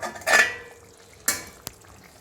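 A metal plate used as a lid is lifted off a pot of country chicken cooking in water, giving a couple of sharp metallic clanks and a final small tap, with faint simmering between.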